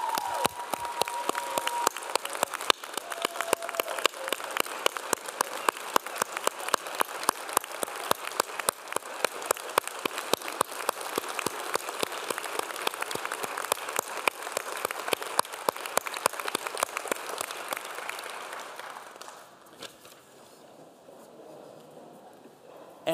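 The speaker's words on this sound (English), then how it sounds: "please join me in one final round of applause for both our remarkable" Sustained audience applause for honorees at a university alumni gala, a long run of dense, crisp clapping that holds steady and then fades to quiet near the end.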